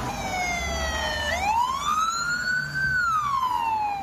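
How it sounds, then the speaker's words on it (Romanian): Ambulance sirens wail from the street below an apartment block during a rescue, a loud rising and falling tone sweeping steadily over background traffic rumble. "Pe fundal încep să se audă sirenele ambulanțelor."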